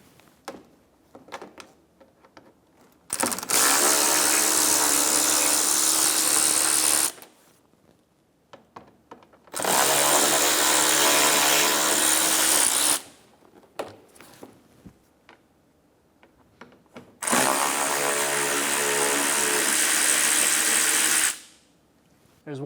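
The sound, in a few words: power tool removing T20 screws from inner fender liner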